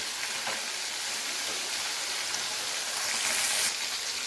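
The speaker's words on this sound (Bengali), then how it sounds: "তো এইভাবে খুবই অল্প সময় নিয়ে মাছটাকে কিন্তু ভেজে নেবেন।" Koi fish frying in hot oil in a pan, a steady loud sizzle and crackle filling the whole stretch with brief splattering pops, close and continuous.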